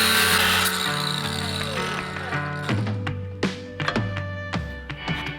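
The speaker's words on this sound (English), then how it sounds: "we do need to cut off this counterweight on the shift selector" A power tool saws through the counterweight on a car's shift selector during a K-swap NSX build, whining steadily at first, then breaking into a series of sharp bursts and taps as the cut progresses, close and fairly loud.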